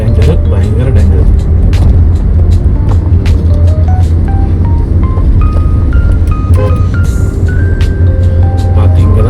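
A vehicle travelling at a steady, moderate speed along a winding forest ghat road, with a loud continuous engine and road rumble close by and scattered high beeps and tones over it.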